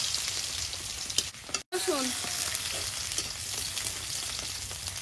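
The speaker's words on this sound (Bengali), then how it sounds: "তেলে দিচ্ছি গোটা জিরে," Whole cumin seeds and crushed garlic frying in hot oil in a kadai make a loud, continuous crackling sizzle up close, broken by a brief clatter and a short dip as something is stirred in.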